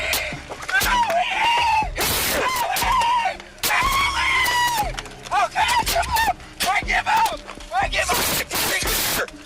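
A suspect screams and cries out in pain as a police K9 bites his leg during an arrest, with loud, repeated wailing bursts over a chaotic scene and other voices talking.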